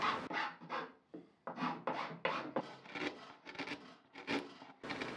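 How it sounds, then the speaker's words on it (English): Hand file rasping across wood on a hand-built bookcase, a series of short, close scraping strokes in an uneven rhythm with brief pauses between them. "I'm just filing everything flat so that it looks nice at the end of the day"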